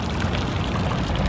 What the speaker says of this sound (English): you can see a fountain here, and the water's hot.